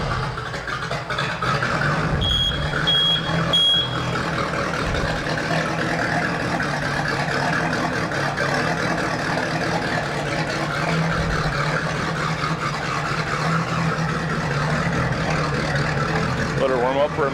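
A 2000 Volvo Penta 5.7GS V8 inboard boat engine with 526.5 hours runs at a steady rumbling idle, loud and close, with a brief higher beeping near the start and someone talking over it.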